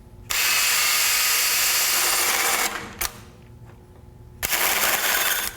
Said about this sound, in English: I'm drilling this hole oversized so we have some room for coolant hose and my oil line.